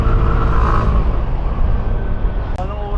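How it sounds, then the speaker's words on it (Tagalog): A Yamaha Aerox v3 scooter accelerates on a narrow road in Valenzuela, its engine droning loudly up close under heavy wind rush, with traffic around it. "Malakas yung arangkada na itong Aerox ah."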